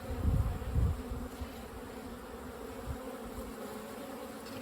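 Honey bees buzz around an open horizontal Flow Hive during an inspection. The drone is continuous, with louder close passes near the start, and no voices are heard.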